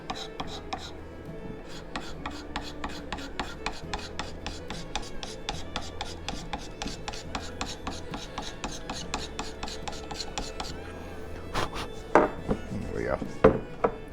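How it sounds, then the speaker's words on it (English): Knife blade scraping a wooden hatchet handle during carving, a fast run of short, even rasping strokes close by, then a few louder, sharper scrapes near the end. "If I scrape a little"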